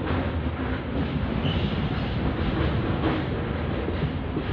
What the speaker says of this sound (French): ils sont longs ces trains, hein